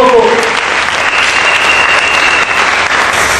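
A church congregation bursts into loud, sustained applause, a dense wash of clapping that holds steady at full strength with no pause throughout.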